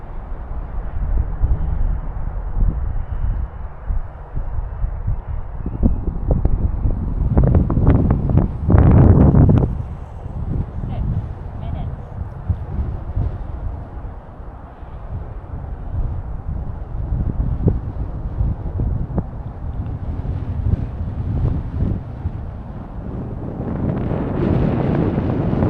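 Gusty wind buffets the microphone at a model airplane flying field, a constant low rumbling roar that swells into stronger gusts midway and again near the end, with no talking.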